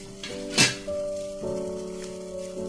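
A pot of chicken soup made with meaty chicken bones bubbles and sizzles steadily on the stove, with a brief clink of pot or utensil and a steady tone running underneath.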